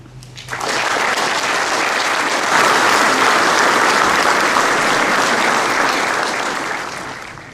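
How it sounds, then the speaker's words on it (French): An audience at a 2019 New Year's greetings ceremony in Moret-sur-Loing bursts into loud, sustained applause that swells quickly, holds for several seconds and tapers toward the end. "je vous invite à les applaudir"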